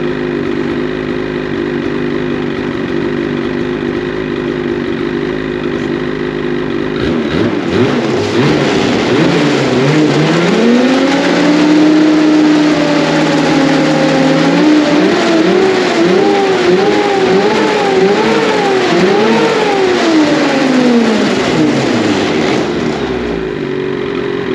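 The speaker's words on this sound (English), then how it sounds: "Revs on a cold engine before it gets too hot." A 2022 Ski-Doo Renegade 850 snowmobile with an MBRP Trail can exhaust, engine cold, idling steadily and then revving up and down in repeated rising and falling pulls, loud and close, with no talk.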